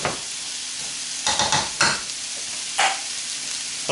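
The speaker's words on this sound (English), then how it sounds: "These big mushrooms in here, you want to break them up. I'm just going to let those caramelize." Big mushrooms frying and caramelizing in a pan for a bacon spinach quiche, a constant close hiss of sizzling with a few louder scraping stirs breaking through.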